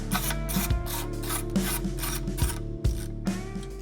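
Ratcheting and metallic mechanical clicks as bolts are run in and snugged down on an LS engine in a Chevy C1500 race truck, close and repeated in short bursts with no talk.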